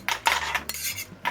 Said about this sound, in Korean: 이렇게 불은 이제 중강불로 한번 볶아주면 끝나거든요